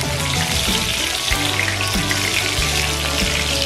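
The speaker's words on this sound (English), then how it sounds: "the second batch of ribs have seared up nicely" Ribs sizzling in a skillet give a loud, continuous, close frying hiss and crackle that holds steady throughout, with no voices.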